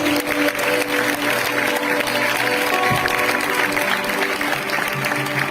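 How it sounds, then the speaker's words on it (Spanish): A church congregation claps at a year-end service, a dense, steady wash of applause with music or a held tone running beneath it throughout. "¿Alguien puede darle un fuerte aplauso a Jesús?"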